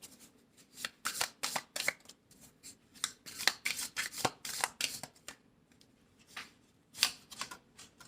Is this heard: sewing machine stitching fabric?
no